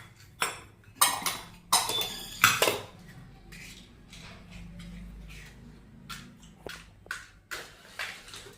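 Metal pots and utensils clatter in a home kitchen as dal is set into a pressure cooker: scattered sharp clanks and clinks, several louder knocks early on, then lighter taps between quiet pauses.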